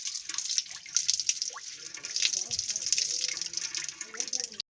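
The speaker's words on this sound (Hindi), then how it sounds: "अब इसके सारी पानी को हम इसी तरीके से करके निचोड़ लेंगे।" Water wrung from homemade paneer held in cloth, a steady patter of drips and trickles falling into a vessel, fairly close, with a voice speaking faintly.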